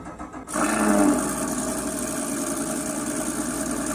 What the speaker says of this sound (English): The button acts as a starter, cranking the engine, which takes a few seconds since the engine is cold.